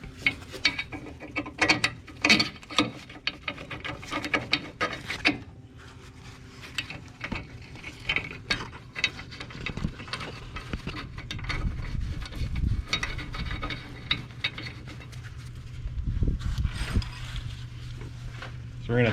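Ratchet wrench driving the clip bolts on a leaf spring repair kit for a 2004-2008 Ford F150, a close series of rapid metallic clicks in bursts, with pauses and some mechanical clunks between strokes.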